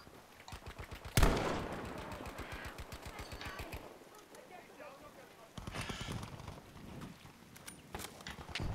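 Sniper rifle shots in Battlefield 5, with one sharp loud crack standing out early, then scattered gunfire and rapid mechanical clatter under a player's intermittent talk.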